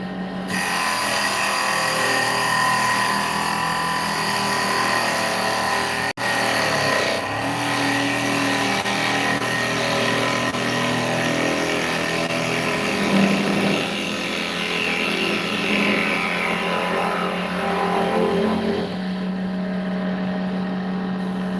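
Wood lathe turning a bowl, a loud steady motor whine and spinning hum running continuously, with a brief dip and then a change in tone near the end.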